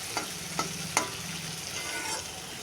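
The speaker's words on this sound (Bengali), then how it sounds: "পেঁয়াজ কুচিটা দিয়ে দিয়েছি, একটু সুন্দর করে লাল লাল করে ভেজে নেব" Chopped onion frying in oil in a pan for a Bengali fish chocchori, a soft steady sizzle with a few sharp scraping stir strokes near the start, fairly quiet and with no talking.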